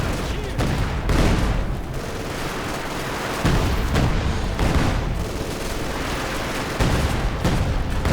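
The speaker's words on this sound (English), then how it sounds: "Su-76 opens up. Acting quite nicely as self-propelled artillery." A Su-76 self-propelled gun fires in a WWII strategy game, with loud booming shots roughly every few seconds over dense battlefield gunfire and explosions.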